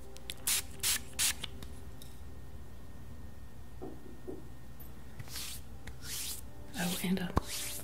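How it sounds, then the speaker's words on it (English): A spray bottle mists moon water scented with rose, three short quiet hissing sprays followed by softer spritzes and light rustling, close and intimate in a hushed setting. "do a little spray for your energy field"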